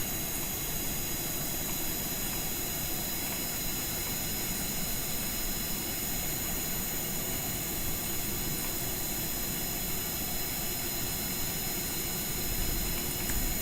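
Aircraft engine in a flying video game, a steady loud jet-like roar with a constant high whine, unbroken and even throughout with no talk.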